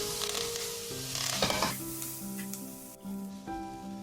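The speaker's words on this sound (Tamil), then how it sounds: "இப்போ நம்ம வந்துட்டு வேர்க்கடலை வேக வச்ச வேர்க்கடலை அதோட சேர்த்துட்டுக்கலாங்க. நல்லா கலந்து விட்டுக்கோங்க" Boiled peanuts being stirred into hot spiced oil for a no-onion groundnut sundal, a brief close sizzle with soft spoon scrapes under a faint steady hum.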